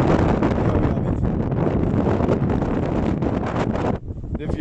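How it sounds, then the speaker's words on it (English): Strong wind roars and batters the microphone almost continuously, easing briefly near the end before gusting again. "it is proper windy."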